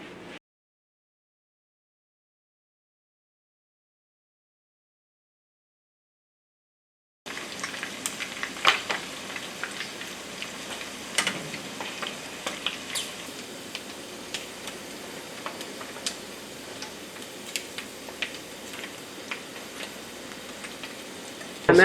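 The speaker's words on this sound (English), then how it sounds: "Ready to go in frying pan." Prepped conch frying in a pan, a steady broadband sizzle with scattered crackles and pops that starts abruptly after several seconds of silence and continues evenly, close and moderately loud, with no talk.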